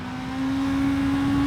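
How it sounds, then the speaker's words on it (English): A 2024 Honda CBR650R inline-four motorcycle engine held high in the rev range, a loud, steady whining drone with a strong sustained tone that climbs slightly and then holds close and unbroken, with no talking. "engine to be revved out all the way up like this."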